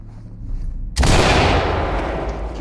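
A flashbang grenade in the video game Ready or Not goes off after a quiet moment as one sudden, very loud blast, followed by a long ringing, hissing tail.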